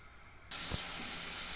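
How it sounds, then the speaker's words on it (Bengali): Cut, washed potatoes drop into hot oil and set off a sudden loud hiss that holds as a steady, close sizzle to the end. "এখন দিয়ে দেবো কেটে ধুয়ে রাখা আলু"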